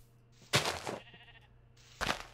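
Sheep bleating in the Minecraft game: two clear, close, nasal baa calls separated by a short pause, with quiet game ambience between them.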